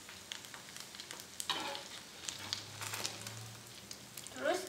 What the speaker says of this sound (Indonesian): kita gunain buat goreng cilor yang lainnya